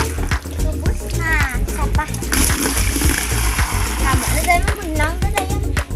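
Water poured from a bucket splashes during a child's outdoor bath, drawn by hand after the pump motor broke; repeated close splashes and sloshing run throughout while children and adults talk and laugh over it.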